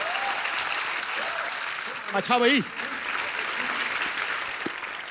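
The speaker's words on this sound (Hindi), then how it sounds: "एक बार हेलन जी और आशा जी के लिए जोरदार तालियां हो जाएं।" Studio audience at a comedy show applauds steadily and loudly throughout, with someone speaking briefly in the middle over the clapping.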